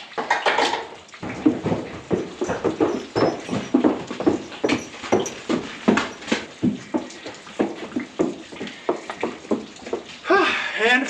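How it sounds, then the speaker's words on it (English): Mares walk out of a barn, their hooves giving a steady run of clip-clop steps on a hard floor that carries on for several seconds, fairly close, with some voice sounds at times. "24 horses are now out of the barn"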